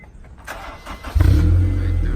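Honda S2000 with an Invidia test pipe and no resonator, its engine catching and then holding a loud, steady rev at close range after quieter rustling.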